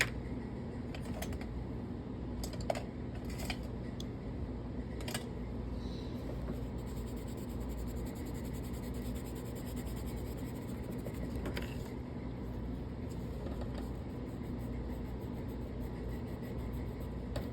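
Soft, continuous scratchy strokes of colored pencil on paper, quiet and close, with a few slightly louder scrapes and a low steady background hum.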